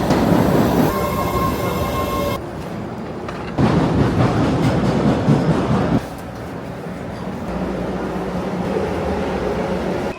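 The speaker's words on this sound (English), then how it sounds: "Okay, I just came out of the subway." A subway train ride, with loud rumbling wheels and a steady roar that shifts abruptly in level as the car moves along, plus a high whine early on.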